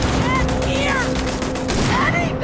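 Rapid gunfire from weapons in the sci-fi video game Starfield, dense repeated shots crackling over a steady game soundscape with faint whistling tones.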